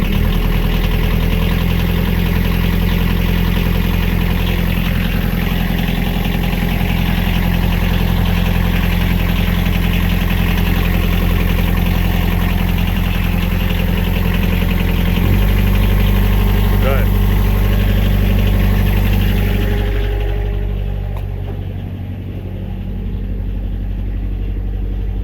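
A drain jetting machine's engine idles steadily while warming up beside a blocked storm water drain in London, a loud, continuous low drone that shifts pitch slightly partway through and eases near the end.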